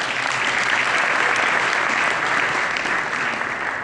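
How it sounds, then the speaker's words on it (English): A large audience at a Philippine tourism company gala claps continuously, a loud, even roar of many hands with no pauses from start to finish. "Let's give him a big round of applause."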